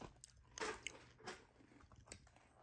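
A crispy snack is bitten and chewed close up, with several sharp crunches followed by softer chewing in a quiet setting and no talking.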